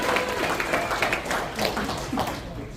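Audience at a Transformers fan convention panel applauding, a sustained wash of clapping from a crowd with a few voices mixed in.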